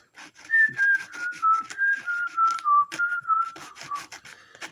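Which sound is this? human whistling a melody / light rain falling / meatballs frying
human whistling a melody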